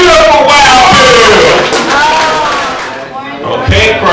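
A crowd at a Battle of the Dozens insult contest roars, cheers and whoops for contestant Wild Bill, loud and sustained, with a host's voice shouting over the noise.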